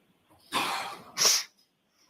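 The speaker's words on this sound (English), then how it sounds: "you're sniffling" Two short breathy nasal bursts, a sniff and then a sharper snuffle a moment later, close and fairly quiet with silence around them.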